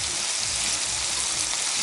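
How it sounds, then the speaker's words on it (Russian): Herring fries with vegetables in a pan, giving a loud, continuous crackling sizzle close by. Nobody speaks over it. "Начала жариться рыба, начался запах."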